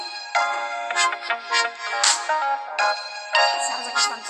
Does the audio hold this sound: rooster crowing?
no